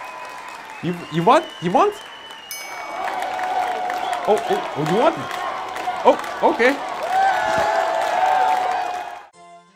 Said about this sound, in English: Oh, I hear cheering.